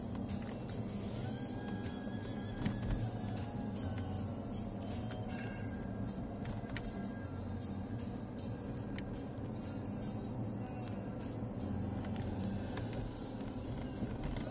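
A Porsche Cayenne Turbo from the 2003–2010 range cruises along a road, its cabin filled with a steady low engine and tyre rumble, with scattered faint clicks and no voices heard.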